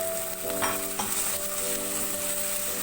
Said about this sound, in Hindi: इसको ऑयल में अच्छी तरह से भूनेंगे।